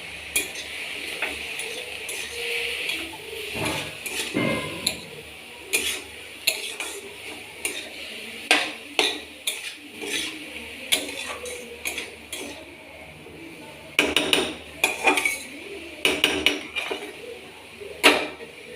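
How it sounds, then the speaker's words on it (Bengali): Spinach with turmeric and salt is stirred in a pan over medium-low heat, a utensil scraping and clinking against the metal in uneven bursts, ending in a run of sharper knocks as the pan is handled and covered. "পরিমাণ মতো হলুদ দিয়ে নাড়াচাড়া করে ঢেকে দেবো।"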